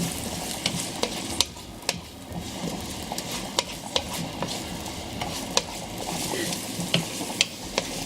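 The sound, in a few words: onions sauteing and being stirred in a pan with garlic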